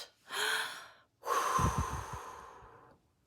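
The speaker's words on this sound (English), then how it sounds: "take a breath" A person taking a deep breath, heard up close as a soft inhale followed by a longer, louder exhale that ends in a slightly rough, fluttering release, then quiet.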